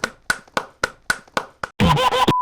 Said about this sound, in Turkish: Buraya alkış efekti koymazsan Talha çok salak gibi gözüküyor.